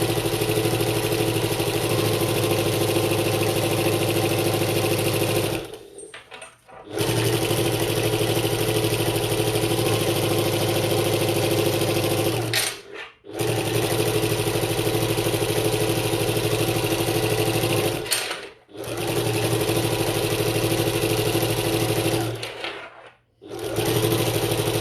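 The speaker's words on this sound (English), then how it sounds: "If you see me sewing without any bobbin thread, give me a shout" A sewing machine stitches a bucket tote in long, steady motor-driven runs with a constant whirring hum, stopping briefly three or four times before starting again, close and loud with no talking.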